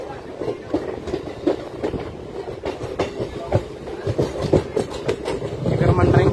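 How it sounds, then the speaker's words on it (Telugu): A Vijayawada–Guntur MEMU train runs along the tracks, its wheels beating a steady clickety-clack rhythm as the carriage rumbles through a wide curve, heard from on board with a loud, continuous rolling roar. "పెద్ద కర్వ్ అయితే తీసుకుంటుంది మన ట్రైన్ అయితే."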